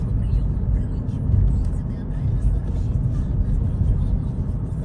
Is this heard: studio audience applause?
no